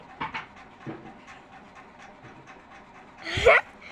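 A puppy pants quickly in short breathy bursts, close by, ending with a louder whimpering yelp.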